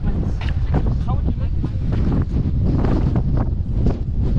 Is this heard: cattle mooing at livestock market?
no